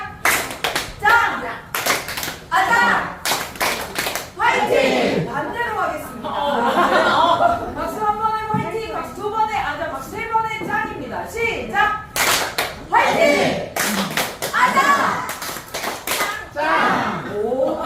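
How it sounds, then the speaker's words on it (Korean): Audience at a laughter-therapy healing concert clapping in counted groups of one, two and three beats, sharp bursts separated by a host's voice talking and laughing between rounds. "박수 한 번에 짱, 박수 두 번에 아자, 박수 세 번에 파이팅입니다"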